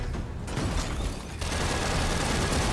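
A turret fires in Gears of War 4, a dense mechanical rattle of rapid shots that runs continuously and grows steadier partway through.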